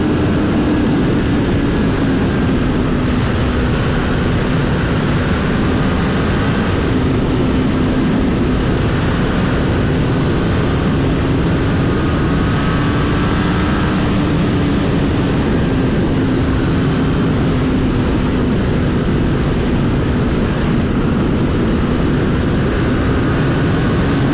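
A 2017 Kawasaki Ninja ZX10R at over 200 km/h on a road test, a loud continuous engine drone blended with heavy wind roar, steady throughout with no talk.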